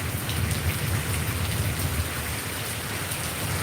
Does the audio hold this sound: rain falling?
yes